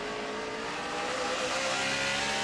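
NASCAR stock cars race at Martinsville in the 2007 Subway 500 as Harvick's 29 and Stewart's 20 battle for third, their engines giving a steady, loud roar that builds slightly with no voices over it.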